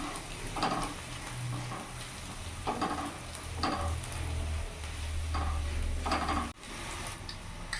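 Chili and cumin powder being stirred into a spiced mixture for a poha and semolina masala dosa, giving soft repeated scraping strokes in a gentle rhythm over a low background hum.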